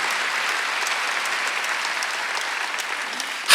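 Steady, dense applause from a church congregation during a Wednesday worship service, continuous and fairly even throughout, with a sharp louder burst right at the end.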